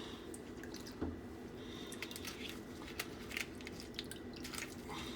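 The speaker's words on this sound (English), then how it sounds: "And we're going to rinse it." Dyed doll clothes being rinsed in water make faint, quiet drips and soft squishy sloshing throughout, with small splashy accents scattered across the clip and no talking.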